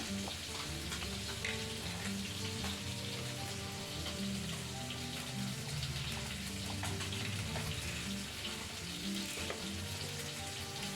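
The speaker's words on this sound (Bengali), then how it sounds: "চলো ততক্ষণ আলু চচ্চড়িটা বসিয়ে দিই দেখো এখানে আলু নিয়ে নিলাম" Potato pieces fry in oil in a pan for Bengali aloo chorchori, giving a steady, close, crackling sizzle that runs unbroken for about eleven seconds with no talking.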